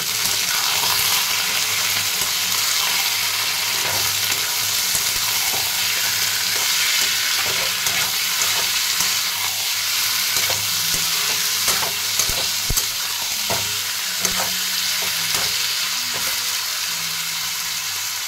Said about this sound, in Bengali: এই মাংসটাকে হালকা হালকা করে ভেজে নেব এই তেলের মধ্যে